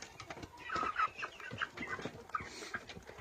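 A large bearded rooster clucks in a village yard among young hens, a run of short, soft clucks close by and fairly quiet, with no talk over them.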